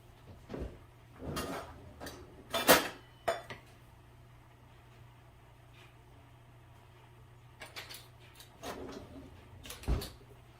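Kitchen utensils and measuring cups clatter while all-purpose flour is measured for chocolate chip cookies, giving intermittent clinks and knocks with quiet gaps between them and no talking.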